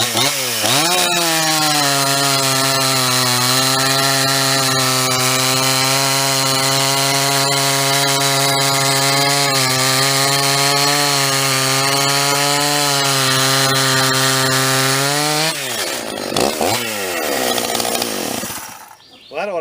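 A Husqvarna chainsaw fitted with a Husqvarna chain cuts a wood cookie at loud, steady full throttle for about fifteen seconds, then drops off and briefly idles before a final blip.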